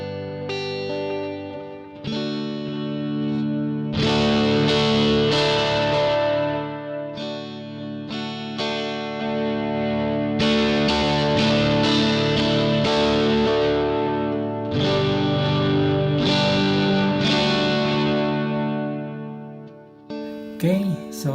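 An electric guitar is played through a Zoom G1on multi-effects pedal on a patch, with ringing, chorus-laden chords and echoing repeats struck in bursts over about twenty seconds and no talking.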